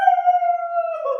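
A human voice imitating a wolf howl in a Russian winter, one sustained pure wavering tone that bends downward at the end, close and clear.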